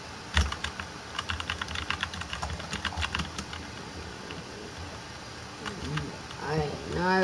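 Computer keyboard being typed on rapidly during gaming, a burst of crisp clustered key clicks followed by quieter scattered taps and a soft swooshing sound at the end.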